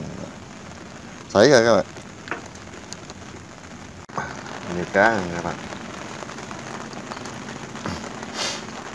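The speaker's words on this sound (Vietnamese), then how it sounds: "Trời lại đổ mưa nữa rồi." Rain falls steadily during a fishing trip, a soft, constant hiss on the surroundings throughout, while someone talks loudly in short bursts over it.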